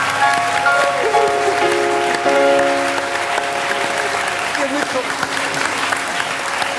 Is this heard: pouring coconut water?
no